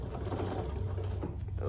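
Sewing machine stitching along a seam on a folded tote bag, a steady close mechanical whir with a fast regular needle rhythm running throughout.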